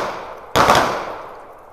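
A single .22 LR shot from a 1935-37 Mossberg No.42 bolt-action rifle on an outdoor range: one loud, sharp crack that decays over about a second, with no talk.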